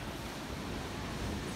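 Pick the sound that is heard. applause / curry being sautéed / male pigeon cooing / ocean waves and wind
ocean waves and wind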